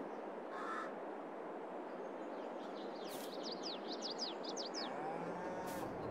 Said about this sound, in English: I want to check on the cows first though